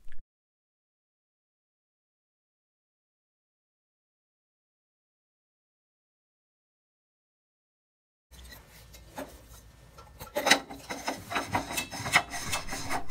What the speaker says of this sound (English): you will unscrew the bottom membrane filter and replace it with a clean membrane filter